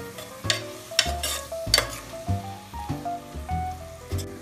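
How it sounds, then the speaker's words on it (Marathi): Chopped onion frying in oil for misal, with a soft sizzle and several sharp clinks and scrapes of a spoon stirring in the pan, heard over quiet background music. "आपला कांदा आता तेलात छानपैकी शिजला आहे।"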